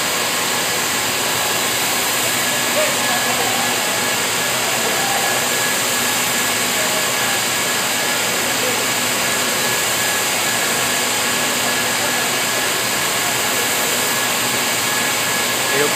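Steady, loud mechanical whir of a T-shirt fabric knitting machine running on a factory floor, a dense continuous hum and hiss with no pauses throughout.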